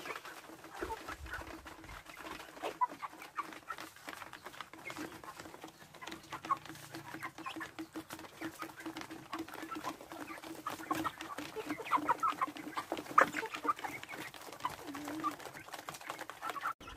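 Chickens clucking softly in a farm chicken house, a low continuous scatter of calls and rustling at moderate distance, with no talking.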